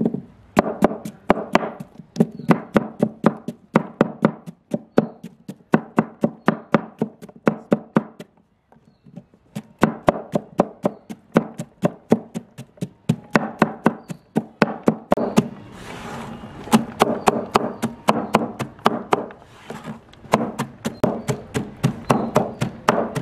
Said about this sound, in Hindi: पहले आप प्याज को छोटा छोटा काट लेंगे।